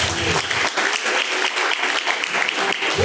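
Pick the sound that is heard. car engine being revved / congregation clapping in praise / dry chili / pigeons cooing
congregation clapping in praise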